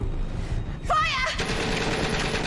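A short burst of gunfire in an interactive film, a rapid volley right after a shouted voice, with a rumbling background continuing underneath.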